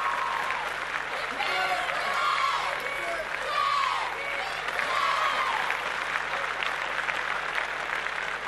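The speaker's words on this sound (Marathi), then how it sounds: "जोरदार टाळ्या वाजवूयात आपण मान्यवरांसाठी आणि परीक्षकांसाठी" An audience at a Mangalagaur celebration applauds the dignitaries and judges, sustained clapping with scattered cheers and whoops, with voices mixed in underneath.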